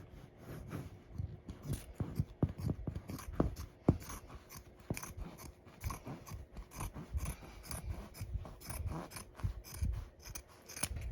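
Scissors snipping through apron fabric on a flat surface, a series of close, crisp cuts and rustles in an irregular rhythm with no talk.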